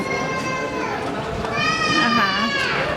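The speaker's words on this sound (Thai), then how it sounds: "โอ้เสียงเด็กร้อง" Children shouting and squealing in a wide square in Venice, shrill cries rising over a busy crowd murmur, close and loud.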